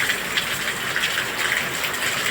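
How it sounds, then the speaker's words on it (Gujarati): Heavy rain pours down steadily in a village, a dense, continuous wash of water with broadband hiss that stays loud and close for the whole stretch, with no voices. "તમને દેખાય ધોધમાર ચાલુ છે જો વરસાદ"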